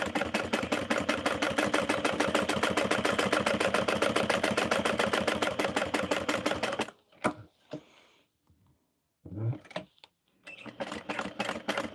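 A sewing machine runs a decorative stitch on a Rosie baby sling in a rapid, steady mechanical rhythm for about seven seconds. It then stops, leaving a few faint clicks and handling noises before shorter bursts of stitching resume.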